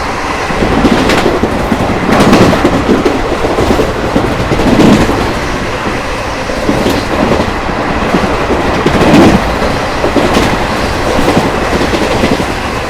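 Ranchi Garib Rath Express passenger train rolling on rails, loud steady rumble with rhythmic clickety-clack of wheels over rail joints heard from inside a carriage.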